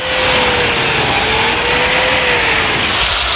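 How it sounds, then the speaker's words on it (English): A power driver sinks a screw into a wooden cabinet joint in a workshop, one continuous whirring burst lasting about three seconds, close and fairly loud. "Slip it together, set the screw in place, and just drive it home."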